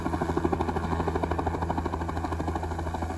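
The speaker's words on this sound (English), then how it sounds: "A helicopter just came in, did a circle around the house" A helicopter's rotor beats thump in a fast, steady rhythm with a droning engine hum, fairly loud and close.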